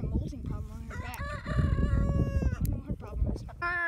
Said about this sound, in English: Come on, chicken. Just fly over.